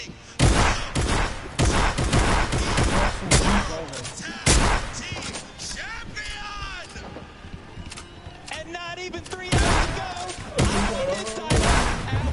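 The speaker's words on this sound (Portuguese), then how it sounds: "Por que meu tiro tira 20 e o do cara tira 150?" Rapid bursts of gunfire from a Fortnite World Cup Finals match, loud sharp cracks in dense volleys with short pauses between, mixed with game effects and speech over the top.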